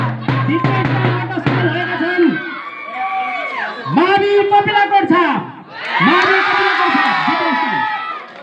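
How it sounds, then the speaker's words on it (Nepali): A crowd of children shouts and cheers in loud, rising bursts of overlapping voices at a school prize ceremony closing a running shield contest, with the waves of cheering separated by short lulls. "ताली।"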